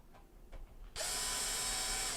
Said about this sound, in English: we're just going to reinstall our mounting screws